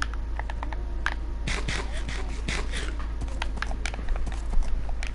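Rapid clip-clop of horse hooves trotting in Minecraft, a steady quick rhythm of light knocks with scattered clicks, fairly close and moderately loud.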